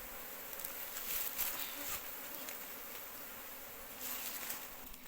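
Bees buzz loudly and continuously close by as comb is cut from a wooden hive box during the first harvest of the year, a dense droning swarm with no talking.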